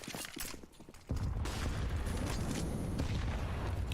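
A grenade goes off in a Counter-Strike match: scattered gunfire and clatter give way to a sudden loud blast, followed by a sustained heavy rumble that lasts to the end.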